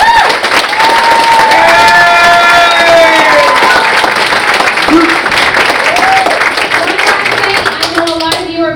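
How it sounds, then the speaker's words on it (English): An audience at a Porterville College choir concert applauds, a dense sustained wash of clapping with some cheering that stays loud across the clip and thins slightly at the end. "Give one more round of applause to the choir."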